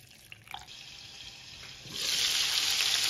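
Two cups of water pour into a blender jar while making pollo estofado, with a few soft clinks first and then a steady, close, rushing splash building in loudness.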